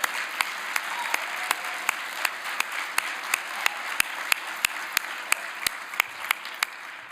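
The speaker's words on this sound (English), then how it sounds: "I think we should give another round of applause to the Biddles, Craig and Sarah." Applause from an audience at a talk for Craig and Sarah Biddle, a steady dense wash of clapping with sharp, evenly spaced louder claps standing out rhythmically throughout.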